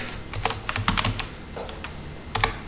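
Keys clacking on a computer keyboard while code is entered in a VB.Net lesson, a quick irregular run of close, crisp taps with brief pauses between bursts.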